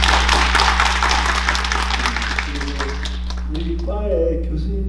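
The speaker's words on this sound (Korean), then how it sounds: "큰 박수 한번 보내주시죠" An audience at a conference gives a burst of loud, busy clapping that fades after a few seconds. A voice speaks through the tail end and continues alone afterward.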